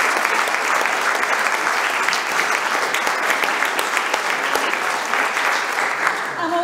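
Conference audience applauding steadily in a large room, a dense, even wash of many hands clapping that holds at full strength throughout.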